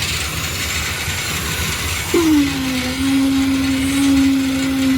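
A concrete vibrator runs during a roof slab (lintel) pour, its motor starting partway through with a sharp rise and then settling into a steady, loud whine over constant site noise.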